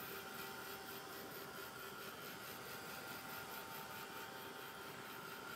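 Embossing heat tool drying a painted background gives a steady, continuous whirring blow with an even tone, held at a constant moderate level throughout with no talk.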